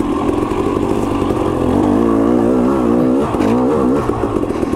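A KTM 300 XC-W two-stroke dirt bike revs up and down close by while riding an off-camber side-hill trail, its engine note rising and wavering with some mechanical clatter.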